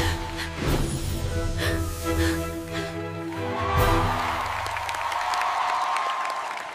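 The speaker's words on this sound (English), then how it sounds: "Include audience gasps and applause." Applause and crowd reaction from a theater audience at a magic show where a rabbit appears from a hat, steady clapping swelling midway over a sustained musical tone, with no talking.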